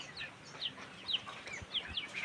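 Chickens on a farm, some sick with fowl pox, cluck and chirp in a string of short, fairly faint calls over a low background murmur.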